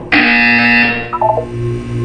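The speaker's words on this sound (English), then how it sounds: "When you hear the buzzer, look down at the floor." Buzzer in the Portal 2 video game: a loud, steady electronic tone of about one second, then a few short, quieter beeps, with no talk.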